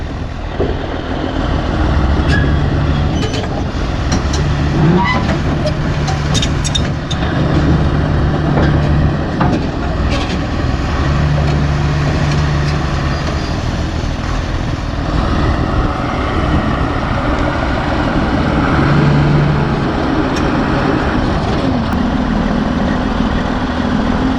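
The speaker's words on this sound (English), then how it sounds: "Hopefully this truck makes it home now." A truck's engine drones loud and steady throughout the drive, with road rumble and rattles over it and no pauses.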